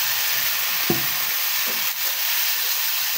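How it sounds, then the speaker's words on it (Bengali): Spice masala of ginger-garlic paste and ground spices sizzles and fries steadily in a pan, with a brief sharper burst as water is added, then a continuous close hiss. "দিয়ে দিব পানি, যেন পুড়ে না যায় মশলাটা।"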